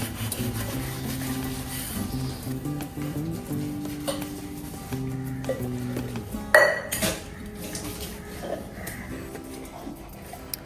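Dishes and glasses being washed in a home kitchen: continuous scrubbing and rubbing with light clinks of crockery and cutlery, and one louder clatter partway through.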